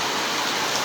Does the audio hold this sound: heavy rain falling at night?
yes